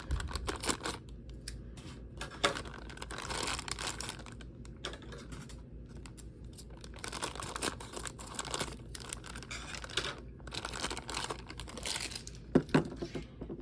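Plastic toy packaging is cut open in a quick series of crisp snips, crinkles and tearing rustles, close and continuous, with a few sharper cracks near the end.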